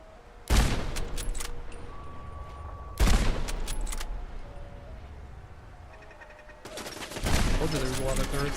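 Turrets at an entrance gate in Fallout London open fire in three sharp, loud bursts of rattling shots with quieter ambience between them. A person talks over part of it.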